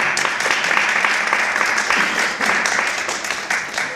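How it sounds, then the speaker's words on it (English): A seminar audience on fear bursts into steady, dense applause, many hands clapping at once, loud and close for the whole stretch with faint talk underneath. "Let's give a round of applause."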